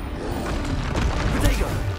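Confringo explosive spell blasts in Hogwarts Legacy, a loud booming, crackling burst with several impacts over about two seconds, with a cast incantation voiced over it.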